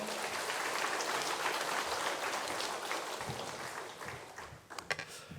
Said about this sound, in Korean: 귀한 강사 목사님 손영호 목사님 박수로 맞이하겠습니다